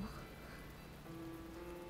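Video game rain patters and crackles in a dense, continuous hiss, like sizzling oil, with a faint tone underneath.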